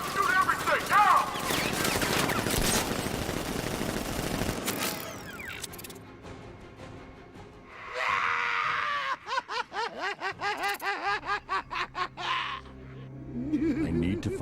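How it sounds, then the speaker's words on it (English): Militia gunfire during a Batman Arkham Knight ambush: sustained bursts of automatic weapons mixed with game effects, then a rapid rhythmic run of close shots, with cackling laughter and shouting voices at points. "Good! Open fire! Shoot everything! Now!"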